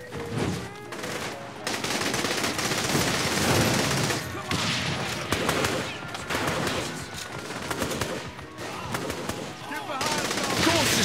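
Minigun gunfire in the video game Saints Row: The Third, a loud sustained roaring burst of rapid fire with game noise, briefly pausing near the start and continuing to the end.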